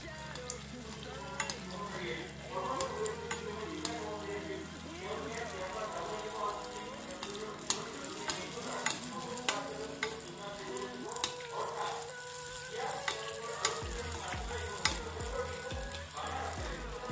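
Tel pitha dough frying in hot oil over a low flame, with a steady bubbling sizzle and repeated clinks and scrapes of stirring throughout; a voice talks over it at times.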